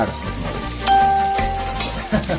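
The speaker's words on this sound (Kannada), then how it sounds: "ಪುದೀನ ಸ್ವಲ್ಪ ಫ್ರೈ ಆಗಿದೆ ಸರಿ ಫ್ರೈ ಆಗ್ತಾ ಇರುತ್ತೆ" Onion and mint leaves fry in a pan, a loud close crackling sizzle with a few faint metallic ticks from stirring, steady and continuous, with no talking.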